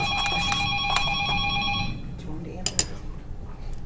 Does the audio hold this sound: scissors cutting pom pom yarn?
no